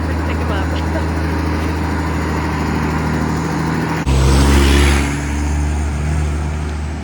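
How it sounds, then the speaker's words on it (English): A garbage truck speeds past on a road in Koh Phangan, Thailand, its engine rising to a loud roar as it passes close by, over steady traffic and road noise. "That's the fastest driving garbage truck I've ever seen."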